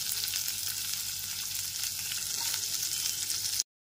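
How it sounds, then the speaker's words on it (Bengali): Chopped onions fry in a pan over a low to medium gas flame, giving an even, unbroken sizzle heard up close with no talking, cutting off abruptly just before the end. "গ্যাসের ফ্লেমটা লো টু মিডিয়ামে রেখে পেঁয়াজটাকে হালকা করে ভেজে নিয়েছি।"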